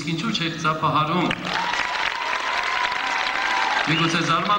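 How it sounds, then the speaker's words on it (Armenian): Applause rises from the audience at the Miss & Mister Yerevan 2004 children's contest, heard as a broad clapping wash beneath a host's amplified voice and a sustained music tone. "Ծափահարում"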